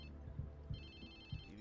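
A phone rings in Watch Dogs 2 while low thumping game sounds play underneath, with an electronic tone holding steady through the second half.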